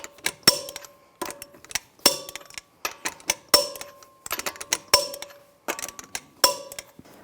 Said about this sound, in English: Now I'm going to tighten the lug nuts to 140 foot-pounds in a cross pattern to tighten the wheel down evenly